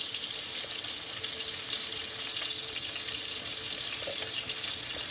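Boneless ribeye steaks browning in a hot pan give off a steady, even sizzle that holds at the same level for the whole stretch, close and unbroken, with no voices over it.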